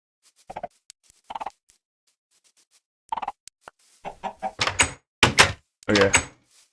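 Chickens in the Minecraft TerraFirmaPunk game give short clucks in scattered bursts, separated by silence and growing louder and denser toward the end.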